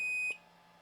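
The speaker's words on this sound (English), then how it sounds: "It starts beeping." A single high electronic beep from an Anycubic Kobra S1 3D printer after a firmware update sounds close by, holding steady before cutting off, leaving a faint hum behind.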